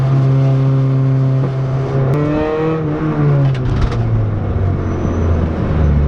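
An engine-swapped Mazda Miata on coilovers revs freely while driving, a steady close engine drone rising and sweeping in pitch under cabin rumble, with a few shifts through the gears.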